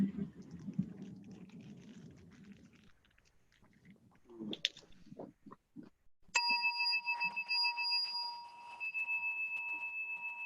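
A meditation bell is struck once to open a meditation session, ringing out with a clear, sustained shimmering tone that lingers and slowly fades, after several seconds of faint rustling and soft movement nearby.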